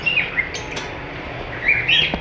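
Pet lovebirds, a breeder pair of a pastel female and an albino red-eyed male, give short high chirps near the start and again near the end, over steady low background noise.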